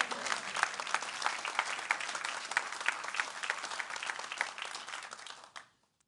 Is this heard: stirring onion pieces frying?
no